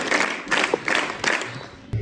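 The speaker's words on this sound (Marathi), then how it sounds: "शाबास, टाळ्या वाजवा" Schoolchildren at a residential primary and secondary school applauding a classmate, a burst of rhythmic group clapping in several loud waves that fades toward the end, with a little crowd noise.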